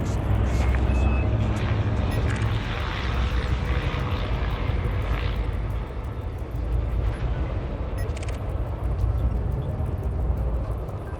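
A spaceship departing in the Elite Dangerous video game, a steady loud engine roar and rumble that holds throughout, with faint speech-like sounds underneath.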